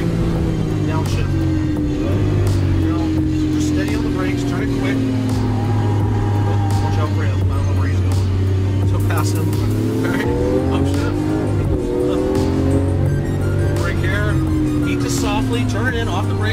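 A Lamborghini Aventador roars loudly around a Las Vegas race track, its engine revving and rising through acceleration with tire squeal, while an instructor talks continuously over the engine.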